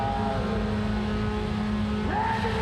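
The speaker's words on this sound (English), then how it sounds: "The car's on to the limiter." A rallycross car sits on the starting grid at the 2018 Höljes round of World Rallycross in Sweden, its engine held on the rev limiter in a loud, steady buzzing drone, with a brief rising tone near the end.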